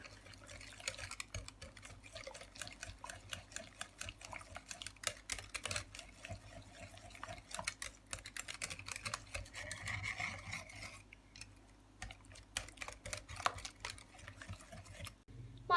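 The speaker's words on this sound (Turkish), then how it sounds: "Hepsini şöyle bir karıştıralım." Dough ingredients with a pinch of dill being mixed in a bowl for a soft yeasted cheese breakfast bun, giving faint, quick, irregular clicks and scrapes that run steadily throughout, quiet and close, with no talking.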